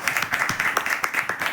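Indoor audience at a Hindi training seminar clapping in a brisk, even rhythm, a moderately loud run of individual claps rather than a roaring ovation.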